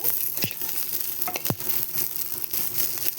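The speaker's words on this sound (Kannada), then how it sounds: "ಈ ಹಸಿಮೆಣಸಿನ್ಕಾಯಿನ ಚೆನ್ನಾಗಿ ಫ್ರೈ ಮಾಡ್ಕೋಬೇಕು ಈ ಥರ ಎಲ್ಲ ಎಣ್ಣೆ ಸ್ವಲ್ಪ ಎಣ್ಣೆ ಬಿಟ್ಟು ಫ್ರೈ ಮಾಡಬೇಕು" Green chillies fry in a little oil as a steady, moderate sizzle, broken by a couple of sharp clinks or scrapes from stirring.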